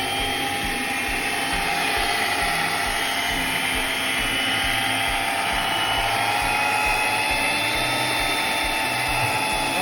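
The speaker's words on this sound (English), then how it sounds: "so we're going in with the mixer now" An electric mixer runs without a break through dark black cake batter, a loud and close motor whine with a gritty, churning texture. The noise stays steady the whole time, and no one talks over it.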